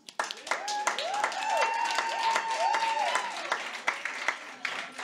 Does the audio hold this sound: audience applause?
yes